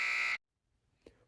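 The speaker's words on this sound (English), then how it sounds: "And there's the buzzer" A loud, sustained end-of-period buzzer sounds at a boys' high school basketball game, lasting about a third of a second before cutting off abruptly, followed by near silence and a faint thump.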